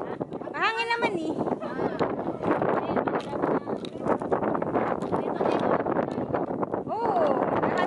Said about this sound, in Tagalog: Mahangin sa loob at labas.